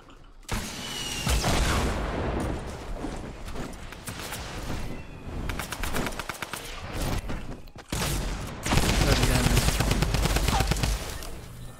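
Green assault rifle fire in the Fortnite battle royale game comes in loud, rapid bursts and strings of shots, with mechanical clicks and in-game effects between volleys.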